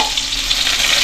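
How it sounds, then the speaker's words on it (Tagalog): Garlic, onion and ginger sizzling and frying loudly in a pan, a dense continuous crackle heard up close with no voices. "Igisa na natin yung ating bawang, sibuyas, tsaka luya."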